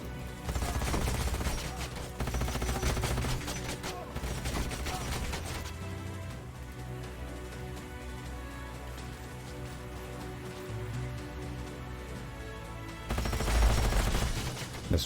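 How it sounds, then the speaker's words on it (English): Assault rifle fire in the strategy game Age of Wonders: Planetfall comes as loud, rapid crackling bursts at the start and again near the end. A quieter stretch of lower rumble and background game sound fills the middle. "This is assault rifle."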